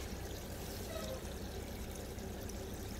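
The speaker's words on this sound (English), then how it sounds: "Look at that beautiful waterfall coming down here." A small garden waterfall spills steadily into a pond with carnivorous plants, a soft continuous pouring and trickling wash that stays faint and unbroken throughout.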